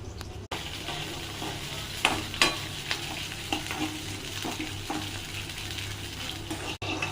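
Tamarind and cumin sizzle steadily as they are dry-roasted in a hot pan, broken by a few sharp scrapes and clinks as they are stirred.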